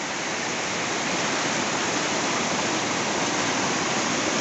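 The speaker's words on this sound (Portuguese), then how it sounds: "Muita água no rio." A strong current in the river at Serra Azul Velho, Palmares, Pernambuco, a dense, loud, unbroken roar of rushing water filling everything, with no voices.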